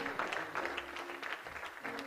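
Church congregation clapping hands during a Sunday service, a steady rhythmic patter of many hands at moderate distance, with voices over it.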